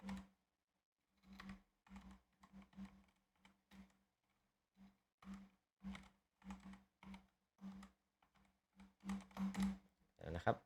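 Thai text typed on a computer keyboard gives quiet, close keystroke clicks in scattered short bursts separated by brief pauses, ending in a quicker flurry of taps.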